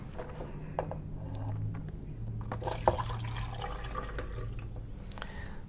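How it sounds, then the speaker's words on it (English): Water pours and trickles into a coffee maker with small splashes and drips, faint and close, with a low hum underneath. "I'm going to just pour into the coffee maker."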